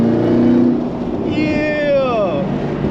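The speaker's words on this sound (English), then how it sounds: "That GTR sounds crazy" A Nissan GT-R engine revs loudly and rises in pitch as it sweeps past close by, with a voice shouting briefly over it.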